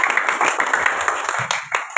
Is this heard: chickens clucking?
no